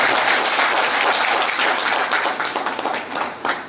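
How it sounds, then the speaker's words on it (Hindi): Audience at a business program event in Dinanagar giving loud, dense applause that stays strong, then thins and tapers toward the end. "एक बार इनके सम्मान में जोरदार तालियां हो जाए"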